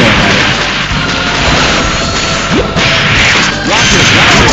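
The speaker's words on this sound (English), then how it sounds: "they just took all those bombs to the face" Bombs explode in the Metal Slug Defense video game, a loud, dense run of overlapping crashes and booms with whooshing blasts that continue without pause.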